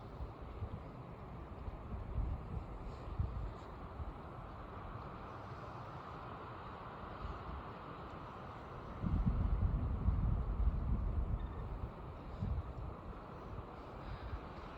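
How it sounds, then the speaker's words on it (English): Wind rushing through pine needles on a snowy Colorado mountain, a steady broadband whoosh that rises into a stronger gust partway through, with no voices. "Wind here sounds different. It goes through the pine needles."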